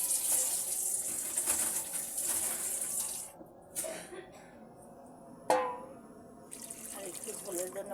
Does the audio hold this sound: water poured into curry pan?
yes